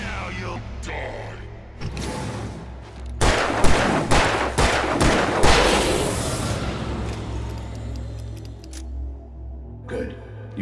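Gunfire in Alan Wake Remastered, the video game: a rapid burst of loud, close shots packed together over a few seconds, set against a steady low game ambience with a couple of isolated cracks before and after.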